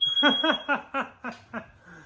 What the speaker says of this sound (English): I set off the smoke alarm.